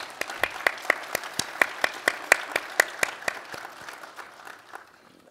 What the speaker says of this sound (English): And I think you all deserve a round of applause for this.